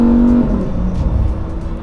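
Lamborghini STO engine blipping on a downshift, a loud, close rev that drops into a deep, rumbling drone for under two seconds.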